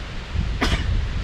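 A single quick sneeze bursts out close by during a walk in wooded parkland, short and sharp over faint outdoor background noise.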